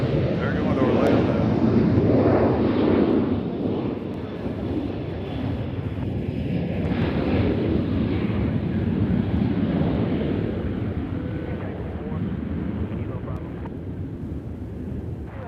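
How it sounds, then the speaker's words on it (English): Southwest airliner departing Nashville International Airport for Orlando, a loud broadband jet roar strongest at the start and fading gradually, with wind noise and people talking over it. "we got a Southwest headed out here. They are going to somewhere. They're going to Orlando."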